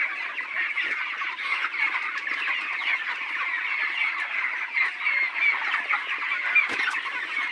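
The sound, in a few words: chickens clucking in poultry farm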